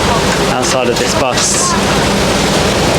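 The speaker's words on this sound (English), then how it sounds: "It's literally just started pelting it down with rain" Heavy tropical rain pelts down outside a bus in Thailand, a dense, steady roar that fills the whole clip, with a voice talking over it.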